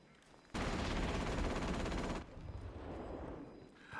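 Automated turrets fire in Atomfall, a dense, loud burst of rapid gunfire lasting under two seconds, then cutting off to quieter rumbling.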